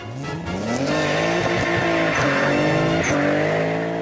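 A Nissan 300ZX with 480 brake horsepower and a competition clutch does a burnout. The engine revs climb and hold loud and close while the tires squeal and skid continuously.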